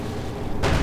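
A mortar round bursts among grenadiers in a video game battle: a sudden loud, broad blast erupts near the end after a stretch of low rumbling background.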